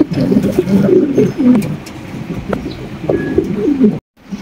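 Pigeons at a breeding farm coo loudly and close by in repeated soft, throaty phrases, overlapping one another before ending abruptly.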